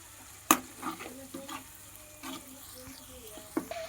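Potato poha mixture stirred in a pan, a soft scraping with a sharp clack near the start and light intermittent sizzling and utensil contacts, fairly quiet with no talk.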